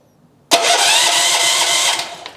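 A MOLLAR MLR 4500 SE petrol generator, a 3100-watt unit with electric starter, cranks and catches abruptly, then settles into a loud, steady running roar close by.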